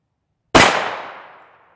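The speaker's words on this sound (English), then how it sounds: "Our little buddy Deacon will be taking these shots." Single loud SSG 82 rifle shot with a 23 3/4 inch barrel fired at a Chase Tactical Highcom AR1000 steel Level III+ armor plate, a sharp crack with a ringing tail fading over about a second.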